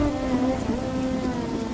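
Rain falls steadily in an animated farm story, a dense even wash with a low tonal hum under it, loud and continuous throughout, with no voices.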